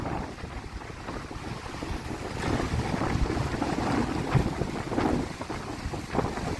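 A strong storm wind roars along the coast of Jaffna, Sri Lanka, as the sea pushes in. Dense gusting rumble and wind buffeting on the microphone mix with surging waves, with no voices.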